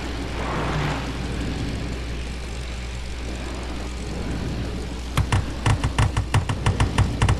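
A WW2 fighter plane's propeller engine drones steadily in a dogfighting video game, a loud continuous roar that gives way to a rapid series of sharp gunfire bursts.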